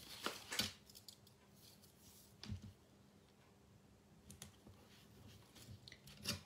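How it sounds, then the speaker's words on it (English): Adhesive tape for a scrapbook page tears in a few short, crisp rips with faint crinkles between them, close and fairly quiet, with no talking. "This tape tears beautifully"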